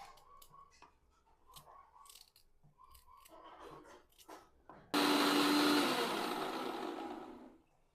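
A mixer grinder whirs into loud, steady grinding of ginger-chili paste, starting abruptly midway after a stretch of quieter kitchen clatter and easing off slightly toward the end.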